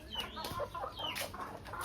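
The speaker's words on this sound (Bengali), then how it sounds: "এই দেখো এইগুলো হচ্ছে সব আমাদের মুরগি" Village hens cluck close by in a short burst of overlapping clucks and squawks from several birds.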